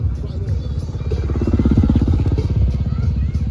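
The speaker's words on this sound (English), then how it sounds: "The flatliner, Brody Wilson, cranking that big 450 out sideways" A 450cc motocross bike revs loudly and steadily as it launches off a ramp for a freestyle jump at a stadium show, the engine note swelling toward the middle, with arena commentary underneath.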